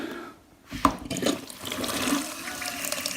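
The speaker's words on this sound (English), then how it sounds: "Put on the tap." Tap opened so water rushes into a small homemade micro hydro generator, a sudden gush and splash settling into a steady close roar of flowing water, no voices.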